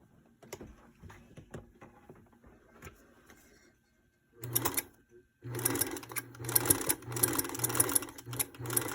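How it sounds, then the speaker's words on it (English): Sewing machine stitching a paper-pieced Fireflies quilt block, with light handling clicks and taps first, then several close bursts of steady mechanical whirring with short pauses between them. "and we'll sew that on."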